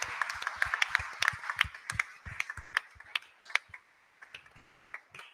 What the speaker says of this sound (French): je voulais qu'on les applaudisse très,